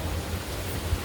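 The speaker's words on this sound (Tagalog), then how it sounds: "Sakto naman po kasi umuulan po" Steady rain falls outside, a continuous soft hiss with low patters, even and unbroken for about a second with no talk over it.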